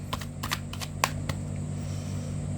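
Tarot cards get shuffled in a few quick crisp riffles and flicks, close by, over a steady low background hum.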